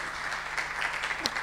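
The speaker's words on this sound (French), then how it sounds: "Il faut les applaudir, hein, quand même." Applause rises from an audience at a digital entrepreneurship event in Tunisia, a brief, moderately loud patter of clapping hands.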